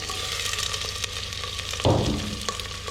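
Chicken trotters (paya) frying with spices in a pot, a steady sizzle with scattered pops and a louder burst near the end as the pieces are moved.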